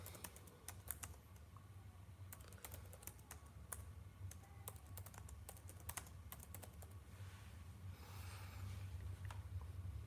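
Computer keyboard typing in irregular bursts of clicks and key taps, fairly close, over a steady low hum with no talking, during a Danish verb conjugation lesson.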